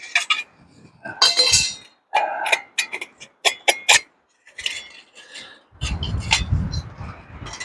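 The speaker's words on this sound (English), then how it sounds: "Now it's time to put the stove away." A small camping stove being taken apart and packed away outdoors, with a string of sharp metallic clinks, taps and rattles in separate bursts, close up, ending in a louder rustling clatter.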